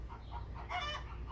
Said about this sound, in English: you can hear the chickens in the background laying some eggs.